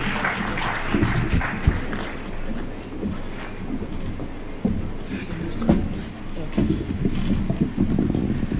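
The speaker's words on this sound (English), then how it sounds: "A big round of applause for Honorable Rachel Shebesh." Audience applause at an International Women's Day event as a guest speaker is welcomed, a dense, steady clatter of clapping mixed with low room rumble and crowd murmur, lasting the full stretch.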